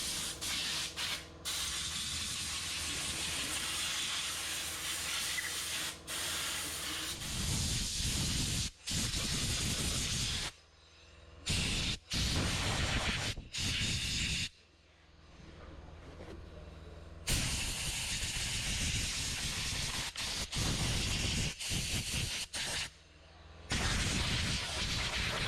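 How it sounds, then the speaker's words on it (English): Forced compressed air blasts loose grit, dust and dirt out of a car interior in long, loud hissing bursts close by, broken by a few short pauses and one quieter stretch. "So we're going to start by removing all the loose grit, dust, dirt. I do that by forced air."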